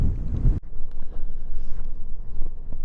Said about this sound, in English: we're windy enough today